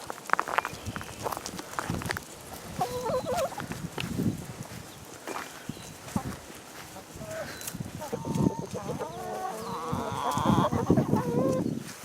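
Chickens cluck on a homestead as a group of hens is led to the chicken house, with busy, overlapping bird calls and footsteps under a person's speech.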